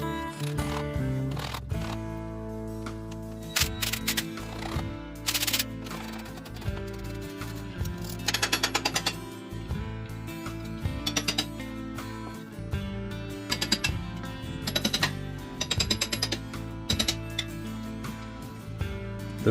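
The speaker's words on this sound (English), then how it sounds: "now I'm going to try to take this differential cover off" A ratchet spins out the differential cover bolts on a 9-inch Ford rear axle from a 1969 Ford Econoline van, repeated bursts of fast clicking close up against a steady background.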